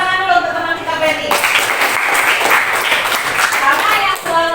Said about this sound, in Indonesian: Kasih tepuk tangan dulu untuk teman kita Ferdi